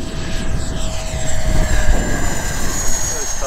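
An FMS Avanti V3 70mm EDF model jet makes a fast pass over a grass field, its ducted-fan whine rising and sweeping past as a steady, loud rush with a falling tone.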